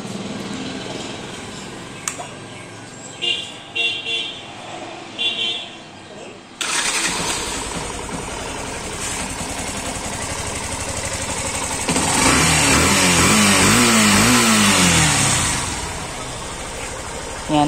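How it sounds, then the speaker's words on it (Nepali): A Yamaha FZ V2 motorcycle with a newly fitted fuel pump assembly cranks and fires up, then settles into a loud, close, steady idle after some quieter workshop clatter. "अब स्टार्ट गरेर देखाउँछु तपाईँहरूलाई। यहाँ हेर्न सक्नुहुन्छ ज्याक जोडिसकेपछि स्टार्ट गरेर देखाउँछु।"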